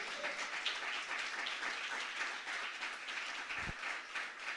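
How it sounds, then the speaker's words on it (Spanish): A church congregation applauds during a Sunday morning worship service, a faint, even wash of clapping heard from a distance throughout. "Levanta tu mejor aplauso al Rey."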